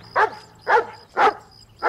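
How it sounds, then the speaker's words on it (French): A dog barks four times at a steady, even rhythm, each bark loud and close, with no voices in between. "Chaque fois qu'un chien t'aboie dessus, faut vraiment que tu l'embrasses?"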